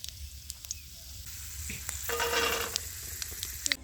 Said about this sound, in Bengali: কড়াইতে তেল দিয়ে দিচ্ছি, বাদাম ভেজে নেব।